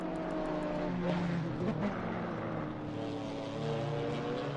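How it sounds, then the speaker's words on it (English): A GT3 Ferrari and a GT4 BMW M4 race side by side at Imola in a sim racing game, with steady droning engine notes whose pitch shifts as they rev, and commentary talking over the cars. "we've got a little bit of a side-by-side coming up between the GT3 Ferrari and the GT4 M4"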